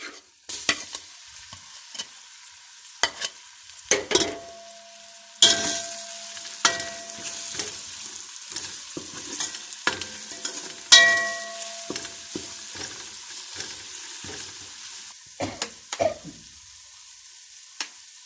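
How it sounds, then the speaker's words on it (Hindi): Ginger garlic paste frying with browned onions in a pan, stirred with a spoon in repeated scraping strokes over a soft continuous sizzle, up close with no talking. "प्याज हमारा ब्राउन हो गया है। अब इसमें अदरक लहसुन का पेस्ट डाल लेंगे"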